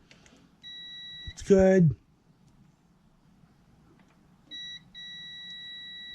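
A multimeter on continuity test beeps with a steady electronic tone while probing a GY6 scooter stator, sounding twice in long held stretches, with someone speaking briefly between the beeps.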